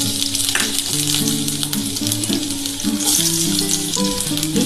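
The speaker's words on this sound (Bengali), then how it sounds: "এবার আমি এই গাজরটা দিয়ে দিলাম" Chopped carrot hits a hot pan with a cumin tempering for a mutton mince moong-masoor dal, giving a loud, continuous close sizzle with background music playing underneath.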